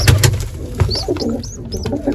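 Pigeons, including a red Chinese breed, coo close by in soft, low repeated notes, with a few higher chirps and brief flutters around them.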